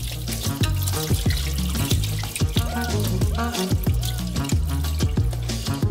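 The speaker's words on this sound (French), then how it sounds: "Ensuite, égouttez le liquide dans une passoire." Liquid drained from soaked potato slices pours through a colander into a sink, a continuous loud splashing and running-water rush with a faint tonal whine underneath.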